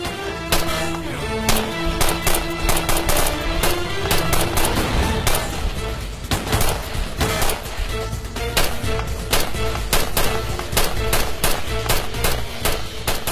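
Dense bursts of automatic gunfire from a TV drama firefight, loud and continuous, with rapid cracks layered over a steady roar of shots and no pauses throughout.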